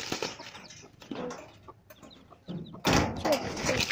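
Soft clucking from a hen among small chick peeps, with rustling and a louder burst of activity near the end.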